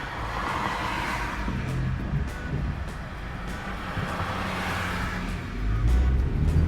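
A 2020 BMW X2 front-wheel-drive SUV accelerating in sport mode on a road, steady engine and road noise heard from inside the cabin, rising and growing louder toward the end.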